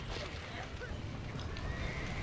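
A horse whinnies in Red Dead Redemption, the neigh faint and brief inside a dense mix of game sound and clip-clopping hooves.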